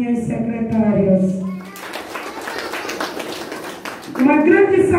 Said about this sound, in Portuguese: Uma salva de palmas para as minhas secretárias.